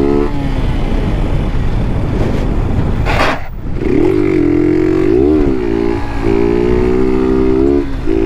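A motorcycle fitted with an aftermarket exhaust kit roars loudly and steadily up close, with a rising whine partway through as the revs climb and hold.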